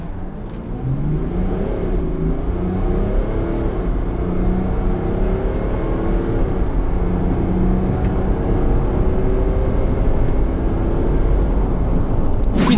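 Steady engine and road noise from a Mercedes G 400d diesel SUV cruising along a winding road, with the engine note rising and falling under continuous tyre rumble, heard from inside, no talk.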